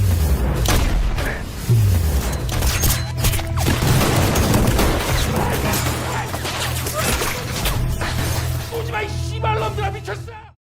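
Loud film action scene with dense bursts of gunfire, booms and crashing impacts packed together throughout, backed by a steady low rumble and music, with a voice heard faintly beneath the mayhem.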